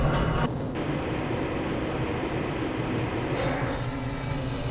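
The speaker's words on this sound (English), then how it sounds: "This train is inbound from the Area 8 topside dormitories to the Central Transit Hub in Area 9." A Black Mesa transit train from Half-Life: Blue Shift rolls along continuously, a loud, dense rumble with steady low roar and hiss throughout, no pauses.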